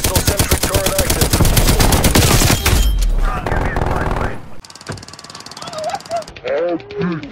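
Automatic sentry turret gunfire in Call of Duty Black Ops Cold War sounds as a loud, rapid, sustained burst of shots that cuts off after a few seconds. Mechanical in-game noises and brief voice chatter follow.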